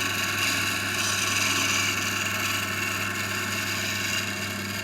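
A wooden chisel handle spins on a lathe as a gouge cuts it, giving a steady droning motor hum with a continuous scraping, whirring cut held at an even level throughout.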